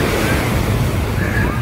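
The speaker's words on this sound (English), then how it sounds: "We came here to enjoy the beautiful beach." Ocean surf rolls onto the beach at Ocean City, Maryland, a loud steady wash mixed with heavy wind rumble on the microphone, with no clear speech over it.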